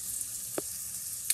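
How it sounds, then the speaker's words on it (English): Bacon frying in its own rendered fat, a steady hiss with a couple of brief clicks as it is moved around the pan. "So I'm just moving it around so the bacon doesn't burn."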